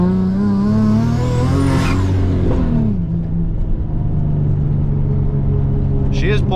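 Turbocharged Nissan 350Z engine pulling hard from inside the car, loud rising revs with a gear change and whistling boost, then a steady drone, with a voice talking over it.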